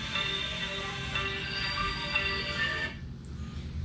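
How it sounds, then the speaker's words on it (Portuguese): A phone's melodic ringtone plays in the open after being taken out of a disposable-cup amplifier, a steady tinny tune that cuts off near the end. "Vocês viram a diferença eu tirando o telefone tocando de dentro da caixa amplificada"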